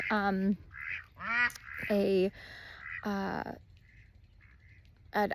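Several loud duck quacks come in bursts close by, with brief pauses between them and a faint short voice near the start.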